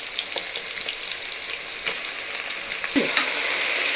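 Mutton pieces hitting a hot pan with chopped onion and green chilies for mutton biryani, a steady close sizzle with scattered stirring scrapes and a louder burst near the end.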